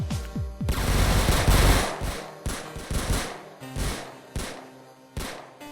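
Guards opening fire on players in a Roblox Squid Game round, with loud rapid gunfire bursts up close followed by a string of separate, sharp single shots, no talking.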